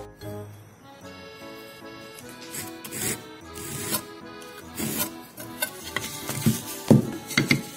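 A 2x4 piece of wood is cut by hand for a small tabletop bamboo water fountain, producing rasping back-and-forth strokes that grow louder and quicker toward the end, with no talking.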